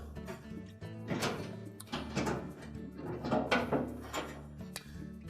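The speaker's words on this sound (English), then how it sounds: "just support that front panel and door assembly when you remove the last screw" A Frigidaire front-load washer's front panel and door assembly is lifted during a bellow kit repair, giving a run of clunks, knocks and rattling metal scrapes spread unevenly over several seconds, with no one talking.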